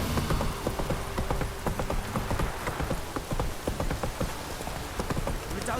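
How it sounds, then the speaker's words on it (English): Steady rain pours across the landscape in The Witcher 3: Wild Hunt, a dense, continuous hiss with close droplet patter, while horse hooves clop along beneath it throughout. "If it don't stop raining, my arse will rot off."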